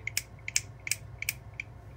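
Fingers snap beside a security camera, picked up by its built-in microphone: about seven crisp, sharp snaps in a loose rhythm over a low steady hum, faint and tinny.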